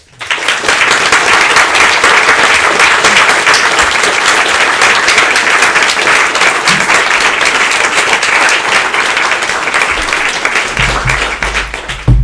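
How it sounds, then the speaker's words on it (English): A large audience at an evening talk applauds loudly and steadily for over ten seconds before the clapping fades out. "let's give Suryagupta a warm round of applause"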